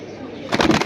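A pair of red patti pigeons, a male and a female, coo in a short burst that starts halfway through. It sounds close and moderately loud after a quieter lead-in.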